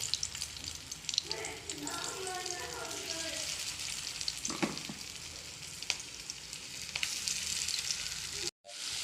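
Ivy gourd (kovakka) pieces frying in oil in a pan give a steady, close sizzle with crackling pops throughout, briefly cut off near the end.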